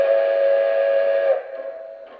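A Lionel Strasburg 90 model train sounds its steam whistle in a single sustained, steady toot that tapers off near the end, clear and close with no voices.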